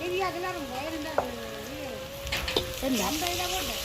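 Garlic and ginger sizzle in a pan for Jaffna crab curry, a steady hissing fry with a few sharp clicks, while a voice talks over it.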